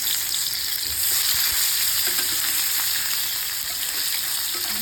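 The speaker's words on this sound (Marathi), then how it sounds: "आता हे बटाटे मी फ्राय करून घेते." Potatoes frying in a pan give off a steady, close hiss of oil that carries on without a break, with no voices over it.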